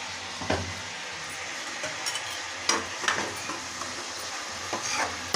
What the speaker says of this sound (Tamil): எல்லாத்தையும் சேர்த்து ஒரு வதக்கிடலாம்